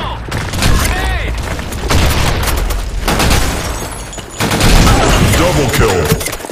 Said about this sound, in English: Grenade! Fire in the hole! Grenade!